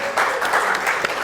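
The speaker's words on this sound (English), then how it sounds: "Y'all give yourself a round of applause." A live studio audience applauds steadily, a dense wash of clapping with light voices mixed in, close and fairly loud for a brief moment.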